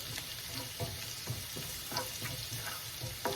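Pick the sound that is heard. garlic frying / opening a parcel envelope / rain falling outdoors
garlic frying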